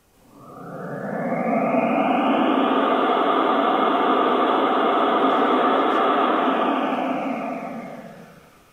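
The fan of a Märklin Spur 1 model V 320 diesel locomotive (DB class 232) whirs up, holds a steady broadband whoosh for several seconds, then fades out smoothly, heard alone.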